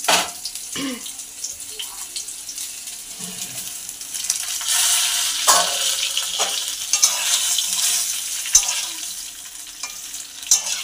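Mango pieces frying with tempered spices in a pan for homemade pickle give a steady, close sizzle, broken by scraping stirs and occasional clinks of the spoon. No voices are heard.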